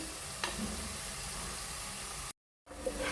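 Turmeric and spices fry in hot oil in a pan for a spicy prawn red gravy, giving a steady hiss and sizzle with one brief clink. The sound cuts out for a moment, then resumes.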